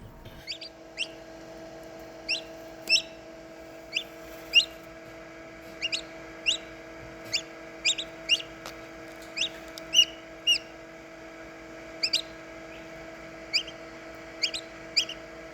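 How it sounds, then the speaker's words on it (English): A turkey chick hatching from its shell gives a steady series of short, high chirps, evenly spaced and fairly close, over a low constant hum in a quiet indoor room. "this bird is executing its evacuation from its shell perfectly"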